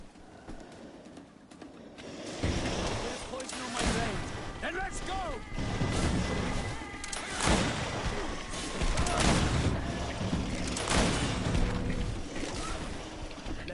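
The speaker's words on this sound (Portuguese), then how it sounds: "Tem um tiro pra porra." Gunfire in the video game GreedFall on PS5 comes as repeated loud blasts and bursts over rumbling background noise, with voices in between.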